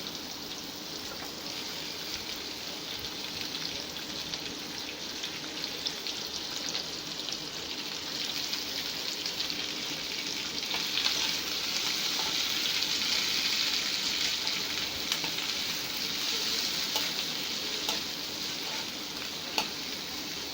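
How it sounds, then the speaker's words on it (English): Capsicum and baby corn sauté in a little oil in a pan, giving a constant close sizzle and crackle with occasional soft stirring clicks, steady throughout without talk. "We have cut all the capsicum and the baby corns, and now we will saute them for a little time."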